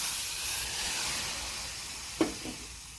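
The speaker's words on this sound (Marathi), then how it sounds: "आता आपण डाळ उकळवून घेऊया" Dal boiling in water in a kadhai gives off a steady, close hiss of bubbling and steam, broken near the end by one short knock and a fainter second one.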